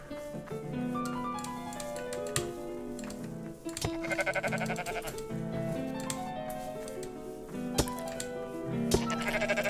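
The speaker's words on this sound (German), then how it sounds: "Da sind die Schafe." Sheep in the Rising World video game bleat repeatedly, overlapping calls sounding close and clear over faint game background noise.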